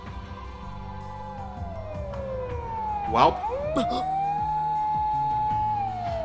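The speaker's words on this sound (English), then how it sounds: "a shrill siren shatters the night" A shrill locker alarm siren in Steins;Gate sweeps up and down in a loud, continuous wail, with a brief spoken remark over it.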